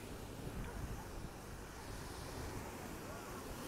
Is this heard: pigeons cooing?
no